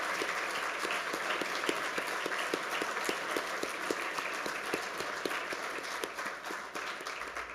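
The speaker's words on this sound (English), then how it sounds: "we just wanted to give a round of applause to those who have helped us" Sustained applause from a commencement ceremony audience for a family medicine graduation, a dense even wash of many clapping hands, moderately distant and steady for the full length with no talk.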